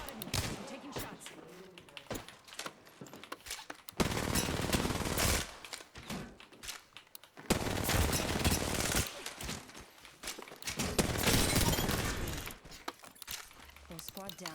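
Automatic gunfire in the Apex Legends video game, rapid rattling bursts of several seconds each with sharp single shots and clatter between them, loud and close, with a voice speaking during the quieter gaps.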